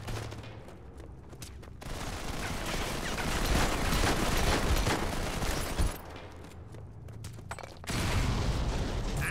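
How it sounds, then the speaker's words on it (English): A grenade explodes during a 5-on-5 Modern Combat 5 PC match, giving a loud, rolling roar of blast and gunfire-like crackle that swells, dips near the middle, then surges again. "well placed grenade"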